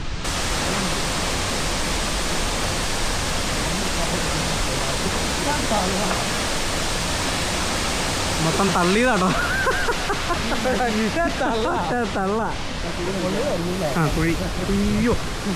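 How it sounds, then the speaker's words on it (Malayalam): Njandirukki waterfall near Thodupuzha, a high drop pouring into a pool, roars as a steady broadband rush throughout, with people talking over the water noise in the second half. "ഈ വെള്ളച്ചാട്ടം എന്ന് പറഞ്ഞാൽ നമ്മൾ തൊടുപുഴ ഇത്ര നാൾ കണ്ടതിൽ വെച്ച് ഏറ്റവും ഹൈറ്റിൽ നിന്ന് വരുന്ന ഒരു വെള്ളച്ചാട്ടമാണ്"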